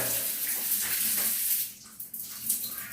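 Water sprays from a handheld shower head in a bathroom, a close, steady hiss that dips and spatters unevenly in the second half as the flow is moved around.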